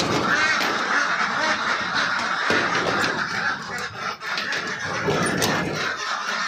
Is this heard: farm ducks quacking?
yes